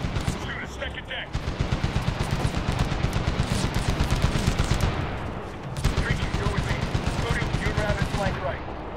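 Dense gunfire in a military video game firefight set in Gardez, Afghanistan, with rapid automatic bursts and repeated shots loud and close, a brief pause midway, and voices calling out under the shooting.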